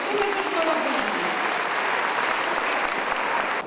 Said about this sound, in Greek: Ένα θερμό χειροκρότημα να υποδεχτούμε τους χοροδίες μας.